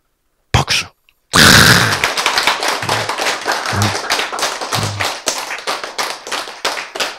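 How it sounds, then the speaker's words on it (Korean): Audience applause at a lecture, starting with a short burst of clapping, then after a brief pause a loud, sustained round of many hands clapping that gradually thins out. "박수."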